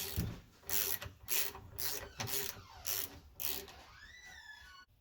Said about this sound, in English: Alright, so we can get our bleeder screw out.